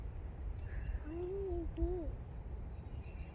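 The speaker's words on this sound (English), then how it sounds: "I think that's a bird chirping." A bird on a hiking trail gives two clear, hooting whistled calls in quick succession, moderately close, over steady outdoor background rumble with no talking.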